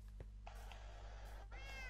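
Minecraft cat meowing, a few short faint meows scattered over quiet game ambience, with no talking.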